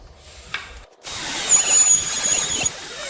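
Router rounding over the edge of a wooden cutting board: a quiet start, then a loud, close, high-pitched whine that cuts in suddenly and holds steady for about two seconds, with no talking.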